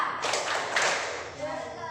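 A classroom of students performing the Tepuk Profil Pancasila clapping chant, rhythmic group claps with sharp taps mixed with chanting voices, fairly close and energetic.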